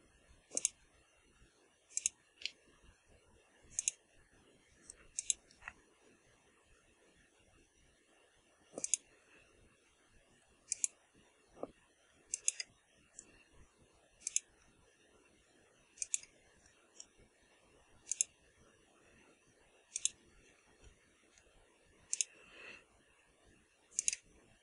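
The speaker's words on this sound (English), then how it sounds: "Just holding down the shift key and clicking in the square." Sparse, crisp computer mouse clicks while the shift key is held during digital painting work, single sharp taps spaced a second or more apart over a quiet background.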